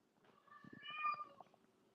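A female cat meows loudly in a drawn-out yowl, close by and alone, rising and then trailing off.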